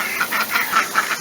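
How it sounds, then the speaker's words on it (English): Ducks foraging for bugs quack in a quick, rhythmic series of nasal calls, close and fairly loud, with no voices over them. "The ducks over here have been looking for bugs."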